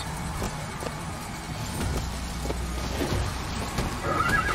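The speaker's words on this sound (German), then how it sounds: "Equus Mechanical. Der automatische Hengst. Das Pferd der Zukunft." In the video game Bioshock Infinite, an advertisement for the Equus Mechanical, a mechanical horse, plays a horse neighing with clip-clopping hooves. The sound comes at moderate volume over a low, steady background hum.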